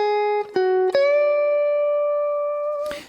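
A clean electric guitar plays a short lick: three quick picked notes, then a long sustained bent note that rings out before a final muted strum.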